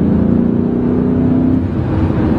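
A BMW E39 M5's 400 hp naturally aspirated V8 idles close by with a deep, steady, throbbing rumble and a faint rising tone partway through, loud and with no voices over it.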